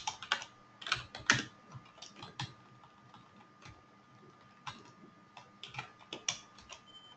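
Fingers type code on a computer keyboard in irregular bursts of crisp, close clicks and clacks, with short pauses between runs of keystrokes and no talking.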